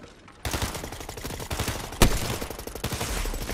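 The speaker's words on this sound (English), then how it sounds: "I gunned him down." Rapid bursts of video game gunfire crackle close and loud, a dense fusillade of repeated shots with one sharper blast partway through, alone without talk.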